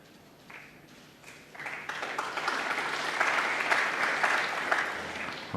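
Crowd of about 2,000 at Alexandra Palace applauding during the 2017 Masters snooker final, clapping that starts light and swells into sustained, loud, even applause filling the hall.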